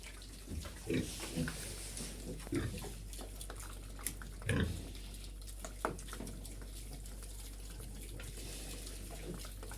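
A sow grunts after farrowing in a farm pen, short low grunts coming in scattered bursts over a steady background hum, with running water and a voice faintly present.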